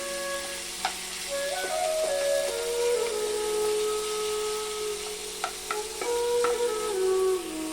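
Onions, ginger-garlic and tomato fry in a pan for a chickpea curry, a soft continuous sizzle with occasional light clicks and scrapes of stirring, no voices.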